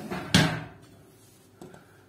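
The storage drawer of a Weissgauff WCS K2K59 WGE gas cooker slides and shuts with a solid thump, followed by a softer knock a moment later, close and otherwise quiet.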